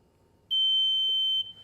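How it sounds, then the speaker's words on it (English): A Hansshow power frunk on a Tesla Model Y, during a reset, gives one loud, piercing, steady electronic beep lasting just under a second in an otherwise quiet space. "That's a really loud beep."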